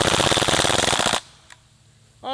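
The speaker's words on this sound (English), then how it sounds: "Let's do some more full auto." A full-auto BB gun fires a fast rattling burst of rapid shots for about a second, then stops abruptly into near quiet before a brief voice enters at the end.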